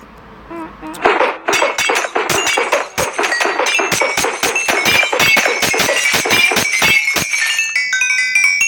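Blocks are broken in Minecraft Pocket Edition while a villa is built, a loud, rapid, continuous run of crisp cracking and clinking hits with no talking.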